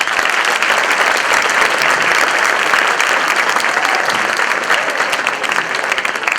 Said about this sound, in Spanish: lo recibimos con un aplauso antes de que se ponga